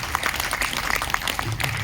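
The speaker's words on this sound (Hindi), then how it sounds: "जोरदार तालियां।" Brief burst of audience applause at an empowerment celebration event, dense clapping with sharp individual claps standing out, fairly loud and close.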